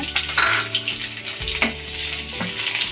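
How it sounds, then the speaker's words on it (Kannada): Onion and capsicum hit hot oil together in a pan, a loud, continuous hissing sizzle with bubbling crackle that rises as the vegetables go in and stays steady throughout. "ಈಗ ಎಣ್ಣೆ ಬಿಸಿಯಾಗಿದೆ ಇದಕ್ಕೆ ಈರುಳ್ಳಿ ಮತ್ತು ಕ್ಯಾಪ್ಸಿಕಮ್ನ ಒಟ್ಟಿಗೆ ಹಾಕ್ಕೊಂಡು ಫ್ರೈ ಮಾಡ್ಕೊಳ್ಳೋಣ"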